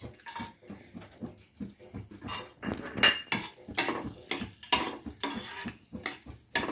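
Whole dry spices (dried red chillies, cinnamon, cloves and two cardamoms) stirred in hot mustard oil in a nonstick pan, with repeated scraping and clattering strokes over a soft sizzle, close and fairly loud.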